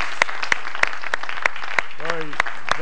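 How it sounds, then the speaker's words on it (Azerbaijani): An audience claps for the performer Mir Tehran in a steady rhythmic beat of sharp, evenly spaced claps, with a voice briefly rising over it near the end. "Alqışlayaq Mir Tehranı bir də."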